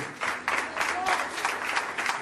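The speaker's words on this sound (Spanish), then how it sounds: "Aplaudan al Señor si quiere aplaudirle." A church congregation applauds during a sermon, a steady wash of many hands clapping together with some voices mixed in, moderately loud and continuous throughout.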